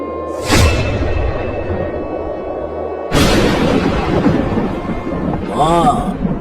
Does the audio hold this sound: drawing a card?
no